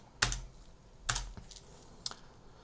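Typing on a computer keyboard, a few crisp separate clusters of key clicks spaced about a second apart, close and clear against a quiet background with no talking.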